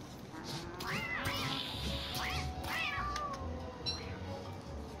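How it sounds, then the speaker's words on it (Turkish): Several cat meows from the video game Don't Starve Together, a handful of rising-falling calls spaced over a few seconds, moderately loud over a low steady game background hum. "Kedi kaynıyor la buralar."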